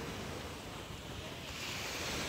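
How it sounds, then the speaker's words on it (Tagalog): Steady roar of surf and large crashing ocean waves wrecking a fishing boat, with wind buffeting the microphone throughout, continuous and loud, no clear voices. "Durog ang bangka sa malaking alon."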